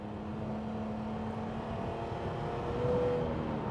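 Mercedes R129 SL with a six-cylinder engine accelerating, a smooth, low, steady drone heard from inside the car that builds slightly toward the end, fairly quiet overall.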